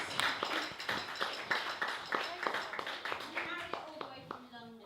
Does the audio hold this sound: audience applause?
yes